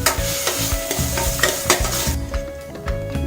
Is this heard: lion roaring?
no